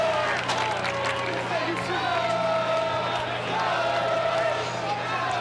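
A crowd at a girls soccer game keeps up a steady murmur of voices and scattered shouts throughout, with a commentator's voice running over the top.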